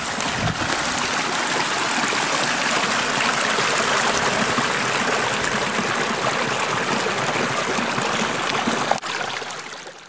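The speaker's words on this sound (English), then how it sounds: "You can hear the stream and makes a bubbly," A close, steady bubbling stream on the middle course of the River Nairn gurgles and rushes without pause, loud and continuous, with no talking.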